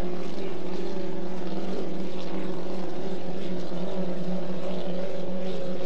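A Stalker II 2.5 litre racing powerboat, number 16, competing at the 1994 Valleyfield regatta, its engine a loud, steady, sustained drone with a slight wavering in pitch throughout.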